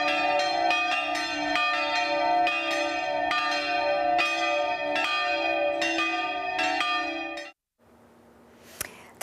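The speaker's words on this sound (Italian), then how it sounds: "campane a festa hanno suonato" Church bells ring in celebration in the Veneto, a dense, resonant peal of repeated strikes that carries for about seven seconds, then cuts off and leaves faint ambient noise.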